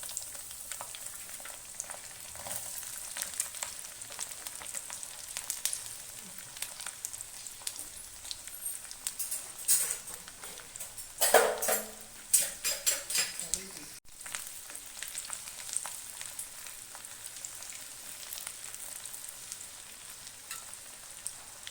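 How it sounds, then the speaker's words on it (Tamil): Garlic frying in oil after mustard seeds have spluttered, a quiet, continuous sizzle with scattered pops and a brief burst of stirring clatter midway, heard close with no talk. "கடுகு பொறிஞ்சிட்டு பூண்டை போடுறேன்"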